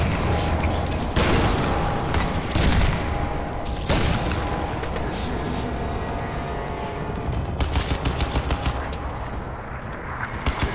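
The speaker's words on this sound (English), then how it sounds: "Nades for everybody!" Heavy gunfire and grenade blasts in a Crysis 2 Remastered firefight, with dense rattling bursts and several sharp booms across the whole stretch, loud and continuous.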